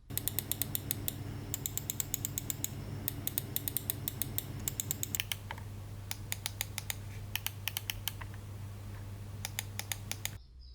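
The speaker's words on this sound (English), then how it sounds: "you can hear a sound test of this mouse" A budget gaming mouse styled after the Razer DeathAdder, costing under $10, gives a run of crisp, quiet clicks and ratcheting scroll-wheel ticks. The clicks come in quick bursts with short pauses, close up and alone.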